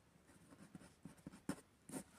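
Chalk or pen scratches faintly across a board or paper in short strokes and taps, irregular and quiet, the marks clustering into a few louder scrapes near the end during a maths lesson.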